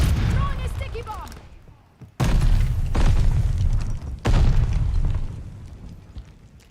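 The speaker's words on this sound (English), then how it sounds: "Throwing a sticky bomb." Sticky bomb explosions in the video game Call of Duty Vanguard, with two loud, sudden booming blasts a couple of seconds apart, each decaying into rumble, amid gunfire and voices.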